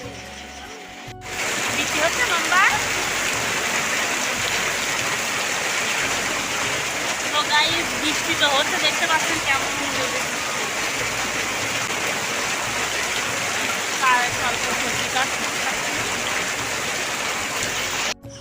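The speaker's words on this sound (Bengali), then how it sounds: "বাড়ি আসতে না আসতে আবার মুসল ধরে বৃষ্টি শুরু হয়ে গেছে" Heavy rain pouring down in a dense, steady roar that starts abruptly and continues without letup.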